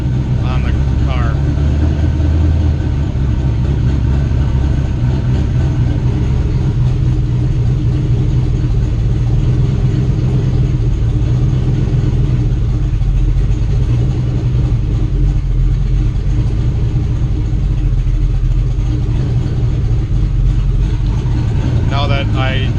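An LS-swapped Fox Body Mustang engine, running cold without an idle air control motor, is held on the gas. It rumbles loudly and steadily for over twenty seconds, with a speaking voice now and then.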